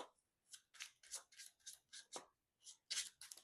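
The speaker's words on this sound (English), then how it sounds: "Shuffle up." A deck of game cards from a Marvel superhero card game being shuffled, heard as a quick series of about a dozen crisp riffling bursts, close and fairly quiet, with no talking.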